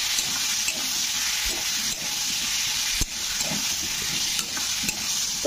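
Onion paste fries with potatoes in a pan, giving a steady loud sizzle and hiss. A utensil scrapes and stirs in occasional soft strokes beneath it. No voices.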